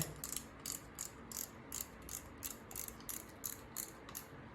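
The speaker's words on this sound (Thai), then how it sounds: "ถึงว่าคลิกเสียงไม่ค่อยดังนะ มันโดนหน่วงด้วยจาระบีไว้" A Shimano Aperto XT 4000 fishing reel gives a soft, regular clicking, its clicker damped by heavy grease, sounding as a quiet rhythmic series of ratchet ticks close up with no talk.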